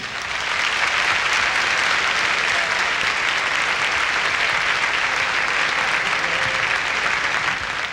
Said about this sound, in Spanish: Le vamos a dar un gran aplauso a Julio Martínez